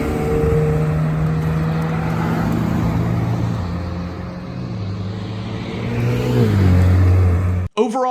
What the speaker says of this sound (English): so you guys can hear a little bit of the exhaust and the engine sound